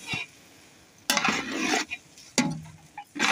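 Poha tossed with salt and sugar in a pan, with bursts of scraping and stirring against the metal and a soft sizzle between strokes, close and fairly loud.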